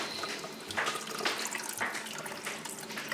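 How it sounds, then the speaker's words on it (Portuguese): Running tap water pours steadily over eggplant seeds being rinsed in a sieve, a close, continuous splashing with small irregular surges. "recolhemos as sementes que limpamos na peneira na água corrente"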